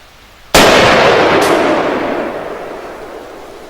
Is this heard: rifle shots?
yes